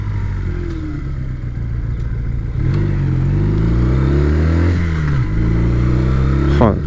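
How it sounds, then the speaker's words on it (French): An old Honda 125 CM Custom motorcycle rides along, its engine rising in pitch through repeated revs and gear changes, loud and close, with a sharp final surge at the end. "On est sur une vieille moto."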